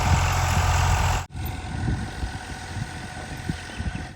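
A farm tractor's engine idles close by with a steady low rumble and vibration; a loud mechanical hum cuts off abruptly after about a second, leaving the idling engine chugging on at the farm at night.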